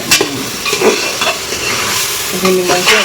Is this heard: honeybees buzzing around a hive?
no